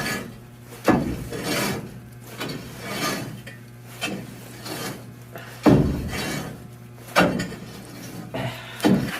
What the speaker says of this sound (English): I'll use the scraper tool now to go in here, pull that stuff forward.